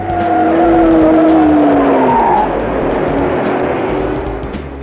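A 1962-63 Chevy II and Ford Falcon drive at 45 mph, a loud, close engine roar with rising and falling tonal whine and road noise, holding steady before easing slightly toward the end.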